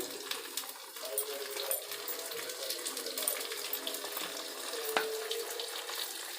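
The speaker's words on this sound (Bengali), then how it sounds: "এখন আমি টমেটো কুচিগুলো দিয়ে দিচ্ছি।" Chopped tomatoes hit a hot frying pan and sizzle, producing a continuous hissing, crackling fry at low-to-moderate volume with no talk over it.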